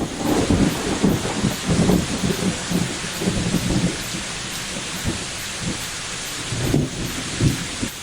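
Steady rain patters with low rumbles of thunder rolling underneath, continuous and fairly loud throughout.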